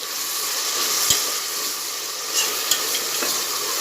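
Sliced onions with a little salt frying in a pan toward a golden brown, giving a steady, loud, close sizzle with a couple of faint clinks from stirring.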